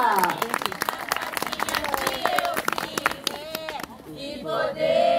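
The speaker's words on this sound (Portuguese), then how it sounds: "Palmas para o pessoal do Teatro de Rua." An audience claps for a street theatre group at an outdoor gathering, with brisk, uneven clapping, shouts and voices mixed in, and a speaker talking over the noise.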